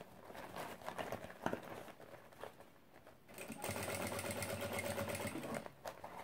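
A sewing machine stitches a seam around a fabric organizer, first in short stop-start bursts, then in a longer, steady, fast-running stretch close by.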